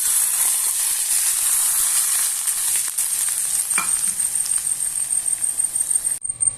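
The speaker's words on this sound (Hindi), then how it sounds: "इसमें 1 टीस्पून ज़ीरा और 5 से 6 अदद मिर्ची डाल दी है। इनको मैं थोड़ा सा फ्राई कर लूँगी।" Cumin seeds and chilies frying in hot oil in a pan, a loud steady sizzle with a bright hiss, turning more crackly and uneven toward the end.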